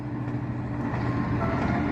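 The Alexandria–Cairo train rumbles past in a low, steady roll, lasting only a moment.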